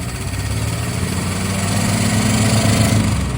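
A long-abandoned 1964 Plymouth Valiant convertible engine runs at a steady idle with a pronounced top-end noise, a continuous loud low rumble with faint rhythmic ticking, no talking.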